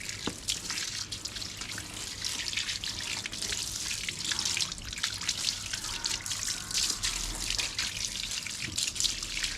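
Water pours and trickles steadily over a car battery being rinsed clean, a continuous close splashing and dribbling wash with no talk.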